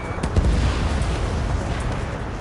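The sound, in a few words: missile launch and explosion in Ace Combat 7 video game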